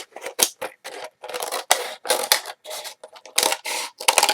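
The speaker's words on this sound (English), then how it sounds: "I take a pair of scissors to cut it out." Scissors snip repeatedly through a plastic water bottle during a craft project, giving a quick run of crisp, crackly cuts and scrapes with short pauses between them, close and fairly loud.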